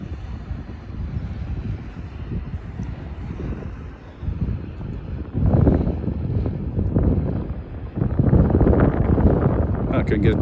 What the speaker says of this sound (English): It's starting to get windy out.